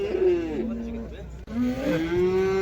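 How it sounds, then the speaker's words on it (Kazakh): Cattle low loudly and close at a livestock market, two long drawn-out moos separated by a brief pause, with crowd noise in the background. "Мына 5 сиыр, 5 бұзау оң жағында."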